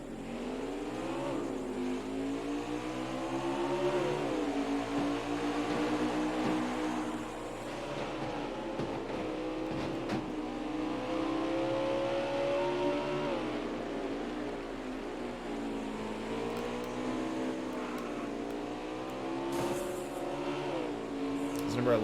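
Race cars in a NASCAR racing video game drone and whine together in a continuous pack, engine pitches rising and falling with throttle changes as several cars circle the track.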